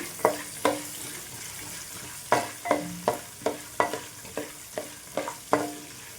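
Green chillies frying in a pan for a spicy puffed rice mixture, with a spoon scraping and stirring in repeated sharp strokes over a steady close sizzle.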